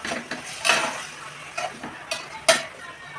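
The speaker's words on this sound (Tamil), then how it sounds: "அதை நல்லா கிளறணும்" Cleaned goat tripe stirred with garlic and ginger in a pan, a few separate scraping strokes and clinks of the spoon against metal over a faint sizzle, close and intermittent, no talking.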